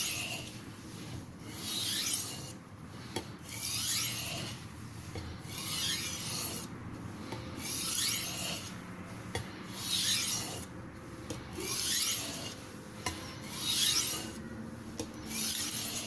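A knife blade is drawn over a sharpening surface in about a dozen even, rhythmic rasping passes to form a micro bevel, each stroke close and distinct with no talking.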